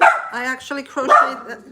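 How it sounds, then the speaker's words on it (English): Dogs bark indoors in short yips beneath someone talking close by, the barks overlapping her voice in quick bursts. "I apologize for the dogs."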